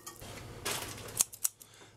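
Scissors snip in the kitchen with a few crisp metallic cuts, two of them sharp and distinct, close and fairly quiet over a faint rustle.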